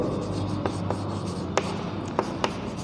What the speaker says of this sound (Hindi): यहाँ लिख देता हूँ मैं